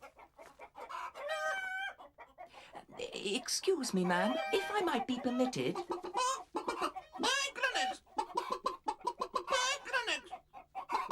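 Chickens cluck and a rooster crows inside a hen house, the birdcalls mixed in and around steady talking voices throughout.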